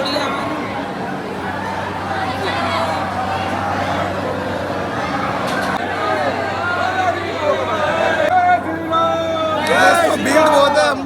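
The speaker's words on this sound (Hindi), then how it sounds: "बहुत भीड़ है मंदिर में" A large, dense crowd at Mehndipur Balaji temple, a steady murmur of many voices close around with scattered calls and shouts rising toward the end.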